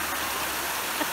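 Waterfall near Salvador in Brazil, a steady broadband rush of falling water filling the clip with constant, fairly loud noise and no break in its texture.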